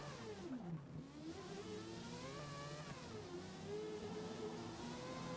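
Race car engine in the video game Forza Motorsport 8 on the Mugello full circuit, a steady mid-pitched drone that rises and dips with throttle, fairly quiet and continuous, with no talk.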